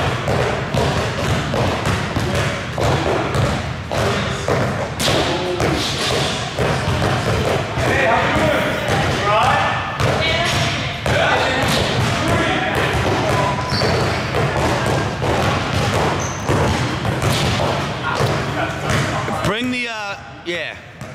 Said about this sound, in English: his dribble needs to be closer to his elbow